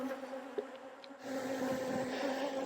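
Angry honeybees swarm around an open hive in August, giving a steady close-range droning buzz that swells louder partway through, with no talking.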